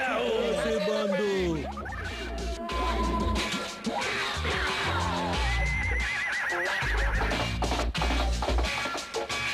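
A cartoon horse in a Hindi-dubbed stone age cartoon gives several loud, wavering whinnies among busy music and effects, with voices talking over parts of it.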